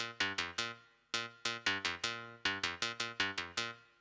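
Bright attack layer of a PolyBrute analog FM synth: sharp plucky notes with fast decays in a rhythmic pattern of quick repeated hits, clear and alone, fairly quiet.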